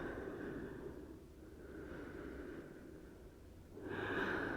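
Slow breathing during a Hatha yoga flow, soft and close, with long airy inhales and exhales at a relaxed pace.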